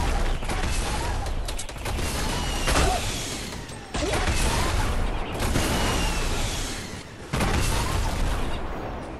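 Rapid bursts of gunfire and heavy impacts in Fortnite as a player shoots out either side of a bridge, loud and dense in three long volleys separated by abrupt breaks.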